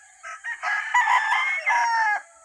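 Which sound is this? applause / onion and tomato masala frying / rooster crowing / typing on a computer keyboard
rooster crowing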